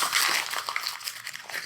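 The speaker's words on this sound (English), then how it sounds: "crumple it into a ball, and throw it at the bottom of your cup" Paper is crumpled into a ball by hand, a close, continuous crinkling and crackling that lasts under two seconds with no voices.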